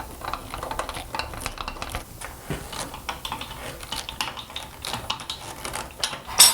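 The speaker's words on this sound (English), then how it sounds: "I got to put these last 2 screws in on this side." Screws are driven into a wooden extension wing in a wood shop, giving quiet close clicking and whirring bursts, uneven and fairly faint, with light handling noise between them.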